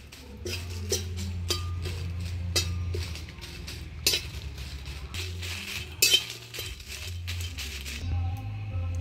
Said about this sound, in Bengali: আমি একটু কাঠখোলায় মশলাগুলো ভাজে নিই